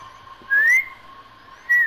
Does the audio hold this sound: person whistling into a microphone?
yes